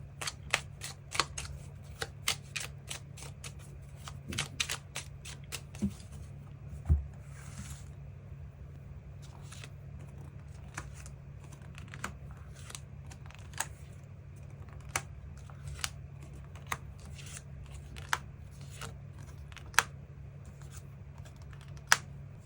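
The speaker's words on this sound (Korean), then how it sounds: "새로운 인연의 등장 가능성에 대해서도 추가 카드 뽑아보도록 하겠습니다" Tarot cards being shuffled and drawn, giving a long run of quick, crisp card taps and flicks over a low, steady background hum, close and fairly quiet, with no one speaking.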